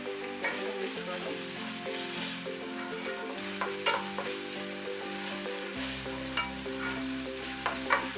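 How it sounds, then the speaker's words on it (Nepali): Garlic ginger paste and bay leaf sizzle in hot oil for a yoghurt eggplant curry, with close, steady frying crackle and intermittent scrapes and clinks of a spoon stirring the pan. "आधा मिनट जति चलाएर फ्राई गरौँ।"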